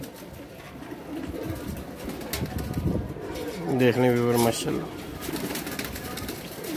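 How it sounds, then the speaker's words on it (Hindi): Dakoo breed pigeons coo nearby in a harmonic burst near the middle, with softer bird sounds around it, while someone talks over and between the calls. "ये भी कबूतर मुस्तफ़ा भाई ये भी डाकू ब्रीड है।"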